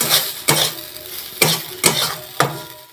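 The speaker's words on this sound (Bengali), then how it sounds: "দেখো তেল ছেড়ে যাচ্ছে আমার বাটা থেকে, ছেড়ে গেছে, ভালো করে ভাজা এটা" Coriander leaf paste fried in oil in a pan, a soft sizzle broken by about five sharp scrapes of a spatula stirring at an uneven rhythm, close and fairly loud.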